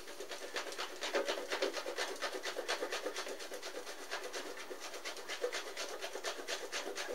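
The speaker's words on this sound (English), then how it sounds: "we're just going to grate that sucker with a cheese grater" Cold butter being grated on a cheese grater, a steady run of quick rasping strokes, close and fairly soft, continuing without pause.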